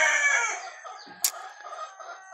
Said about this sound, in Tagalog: Pinag-swap ko na lang kasi siya na labuyo, sobrang ilap.